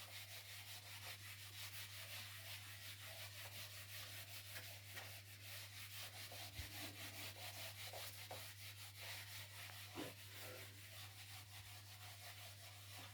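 A board is erased with steady rubbing strokes, a soft rhythmic scrubbing over a constant low electrical hum, faint and close with no speech.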